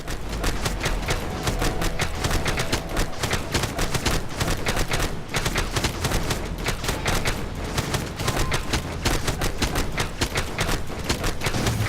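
Turret gunfire in the LEGO Marvel's Avengers video game, a dense and continuous barrage of rapid shots and booms that stays loud without a break.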